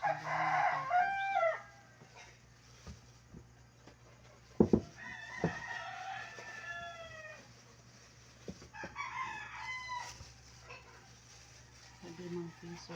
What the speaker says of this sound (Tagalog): pasensya na kayo sa manok